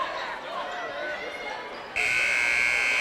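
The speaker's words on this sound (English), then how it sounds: "And the buzzer sounds." A loud, sustained gym buzzer cuts in partway through, ending the third quarter of a girls' high school basketball game over crowd noise and court sounds.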